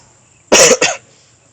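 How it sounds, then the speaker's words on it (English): A person coughs twice in quick succession, close and loud, against a quiet room with a faint steady hum, during a session building a landing page. "I'm getting cough right now"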